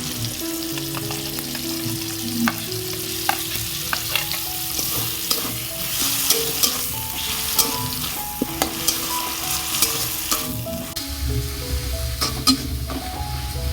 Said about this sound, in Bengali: পেঁয়াজ রসুন আর টমেটো একটু ভেজে নিয়েছি